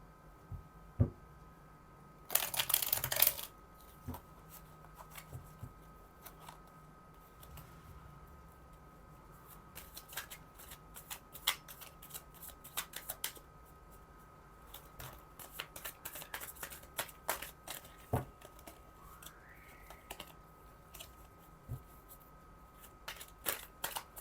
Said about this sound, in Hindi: अब मैं सेकंड डेक का इस्तेमाल करूँगी।